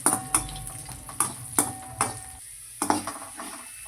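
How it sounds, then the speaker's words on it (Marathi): A spoon stirs grated coconut frying with onion in a hot pan, giving soft scraping sizzle with several distinct clinks of utensil against metal at irregular intervals, close and clear, with no talking. "मी आता खोबरं टाकून घेतलेलं आहे खोबरं पण हलवत राहायचे असं लाल होईपर्यंत"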